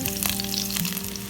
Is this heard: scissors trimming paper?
no